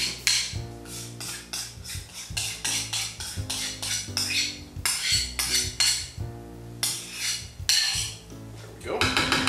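A whisk beats pumpkin into sauce in a metal pan, rapid rhythmic clattering and scraping in continuous bursts with brief pauses, loud and close, no talk.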